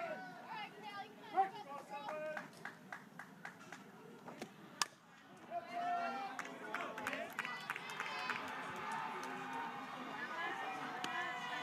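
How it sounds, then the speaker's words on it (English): Distant cheering from a neighbouring field at a Junior League World Series softball game, a faint crowd swell rising midway under nearby children's voices and scattered sharp knocks. "I hear cheering from the other field between Texas and Arizona."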